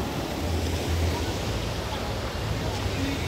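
A muddy, swollen river, dirty after heavy overnight rain and running down from the mountains in the countryside, rushes past as a steady, loud broadband wash of water with no clear breaks.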